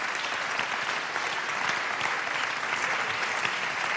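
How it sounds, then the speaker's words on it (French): An audience at a national awards ceremony claps for trophy recipients, a steady wash of applause from a crowded hall, loud and sustained for several seconds. "On peut les applaudir, s'il vous plaît."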